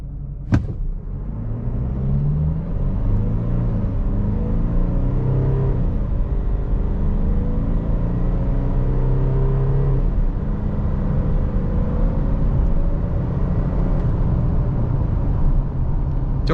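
A car in sport mode accelerates hard from standstill to 100 km/h, its engine note climbing in pitch with a couple of gear changes, heard from inside the cabin over steady road rumble.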